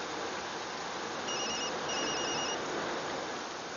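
A phone rings with an incoming call from an unknown number, two short electronic ring bursts sounding faintly over a steady background hiss, with no talking.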